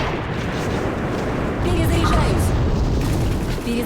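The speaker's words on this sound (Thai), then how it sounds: "มาละบาสุก้ายิง" A bazooka in the shooter game AVA unleashes a loud, rumbling blast that rolls on for several seconds amid the din of battle.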